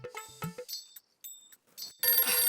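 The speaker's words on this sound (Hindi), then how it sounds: "क्यों बार बार मिस कॉल दे रहे हो?" A mobile phone ringtone from a missed call chimes in a short melodic pattern, stops briefly, then resumes as a louder, denser burst of ringing near the end, with no talk over it.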